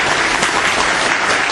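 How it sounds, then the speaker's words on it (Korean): Loud, dense audience applause at a Korean real estate finance industry seminar, continuous and even from start to finish. "다시 한번 박수 부탁드리겠습니다"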